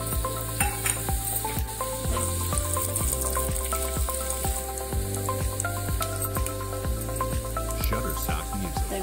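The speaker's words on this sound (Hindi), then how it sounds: "देख सकते हैं हमारा तेल गर्म हो चुका है। अब इसमें हम ये तड़का डालेंगे।" Spices for a tadka sizzle and crackle steadily in hot oil, a constant frying hiss beneath background music.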